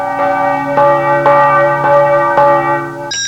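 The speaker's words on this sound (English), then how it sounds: "Six and a half bells." Bells ringing out loud and sustained, a series of bright rich strikes roughly every half second layered over a lingering ringing tone, with no voices.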